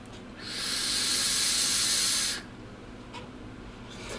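Air is drawn through the open airflow holes of a Wotofo Conqueror RTA vape, a loud steady hiss lasting about two seconds and then cut off, followed by quiet with faint later hints.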